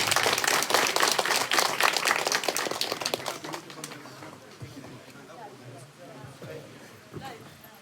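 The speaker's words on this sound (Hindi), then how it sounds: "ये मुकाम हासिल किया है मिस चारवी सप्ताह के लिए जोरदार तालियां।" Loud applause greets a NEET state topper at a school felicitation, with sharp, dense clapping from a close crowd that thins and fades after a few seconds as voices and scattered claps remain.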